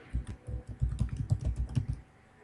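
Fingers tap out a username and password on a computer keyboard, a quick, uneven run of soft, close key clicks lasting about two seconds before going quiet.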